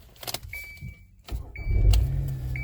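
A Kia Sorento engine cranks and catches, settling into a low, steady idle, preceded by repeated high electronic chime beeps and light clicks inside the car.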